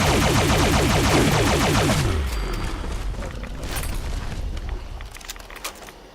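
Quad Automatic Alien Disintegrator in Fallout 76 firing full auto, a loud rapid stream of repeated energy shots for about two seconds, then a dense crackling, rumbling tail of impacts with no talking.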